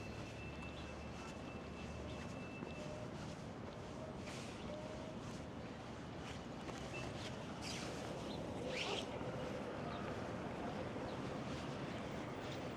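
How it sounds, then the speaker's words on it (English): Wind gusting along a downtown street in Plymouth, Michigan, a broad rushing roar buffeting the microphone, with brief louder surges and faint distant traffic beneath. "now that wind's picking up a little bit"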